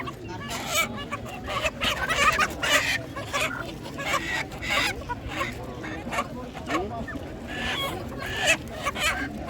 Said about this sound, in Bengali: চারশো টাকা পিস বড়গুলো চারশো ছোটোগুলো তিনশো সিল্কি মুরগি